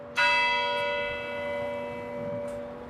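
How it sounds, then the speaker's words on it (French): A church clock carillon in Mosul, a clock given in 1870 by Empress Eugénie, strikes one loud, sustained bell note that rings on with a long, slowly fading resonance. "Ce carillon, qui sonne chaque quart d'heure, c'est l'âme de Mossoul."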